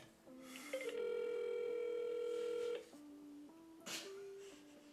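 Telephone call tones on an outgoing call, steady electronic ringback and dial tones with pitch steps, one long sustained tone in the middle, clear and close with no talking.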